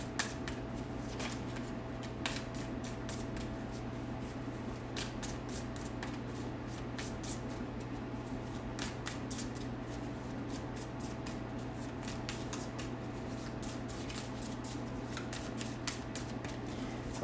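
Tarot cards are shuffled repeatedly in quick riffling bursts, a soft papery flutter over a low steady hum, with no voices.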